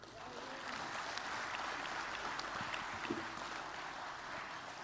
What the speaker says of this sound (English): I could hear the thumping claps from the audience, from the Mauritius.